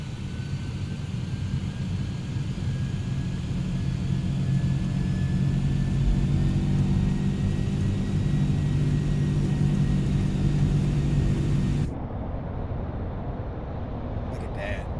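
A FedEx TDFI MD-11 tri-jet's engines roar through the takeoff roll in Microsoft Flight Simulator 2020, a steady heavy rumble with faintly rising whine that cuts off abruptly near the end, leaving quieter background noise.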